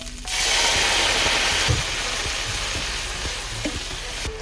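Fresh spinach wilts in a hot pan, giving a steady, fairly loud sizzle that holds throughout, broken by a few soft clicks and knocks of stirring. No one speaks.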